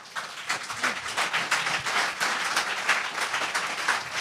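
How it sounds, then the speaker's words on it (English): A crowd claps steadily for several seconds, a dense wash of applause at moderate volume with no voices over it. "let's give a round of applause for Charlie."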